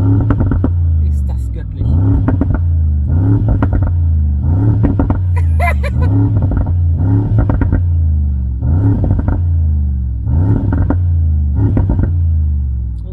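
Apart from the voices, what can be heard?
Brabus G800 G-Class engine and exhaust revving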